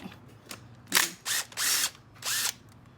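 A screwdriver or driver works T30 screws loose on a Vitpilen 401 motorcycle, making a series of short close mechanical whirring bursts, four or five in quick succession with brief gaps.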